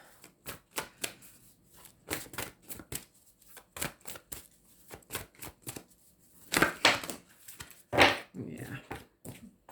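A tarot card deck is shuffled in short, crisp riffling bursts separated by pauses, with a couple of louder flurries near the end and a voice speaking in between.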